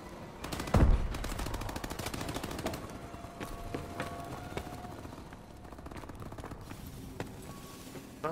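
Rapid automatic gunfire in Call of Duty Advanced Warfare, dense bursts of close shots with a heavier boom near the start, then steady trailing fire with scattered single cracks.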